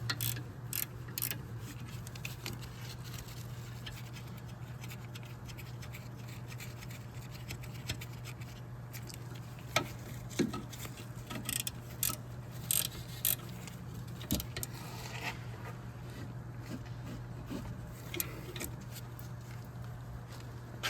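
A wrench tightens the rear brake caliper bracket bolts on a 2007-2011 Toyota Camry, giving faint mechanical clicks and ratcheting scrapes over a steady low hum, with no talking.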